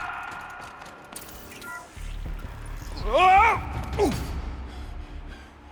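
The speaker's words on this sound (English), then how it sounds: "The door is stuck!" A stuck door in the video game Horizon Zero Dawn gives a short, loud creaking groan that rises and bends in pitch, followed by a second briefer creak, heard mostly alone with faint game ambience.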